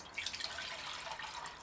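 A mug of water poured into a Crusader mug outdoors, a brief, faint splashing trickle of liquid heard up close with no talk.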